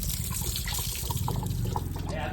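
Water splashes and trickles steadily as it is poured out for a tired dog to drink, a close continuous gurgle with light drips.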